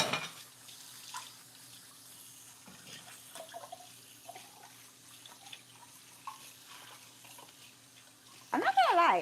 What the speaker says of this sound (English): let me clean this pan.